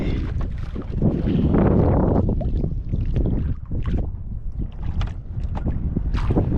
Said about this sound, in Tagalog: lusot pa rin yung yung hangin